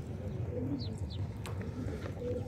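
Pigeons, including a red silver-tailed bird returning with the flock, settle in, with a couple of short rising chirps over a steady low background rumble; soft cooing is faint beneath.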